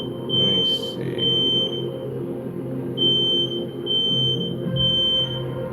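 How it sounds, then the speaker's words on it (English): A smoke alarm under test gives loud, short repeated beeps at an even pace, each one sharp and clear against a low background hum, with no talking. "They're testing the alarm systems today."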